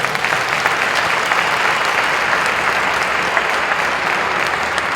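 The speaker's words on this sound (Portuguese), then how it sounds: "Você pode aplaudir Jesus por isso?" A church congregation at a Sunday service applauds steadily, dense sustained clapping from many hands filling the room at even loudness.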